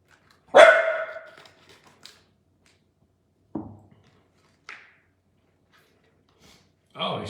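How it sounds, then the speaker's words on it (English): A dog barks outside at gophers, a loud single bark followed by a few fainter, scattered barks and yips separated by quiet gaps, with a voice speaking briefly. "My dog is outside barking at the gophers."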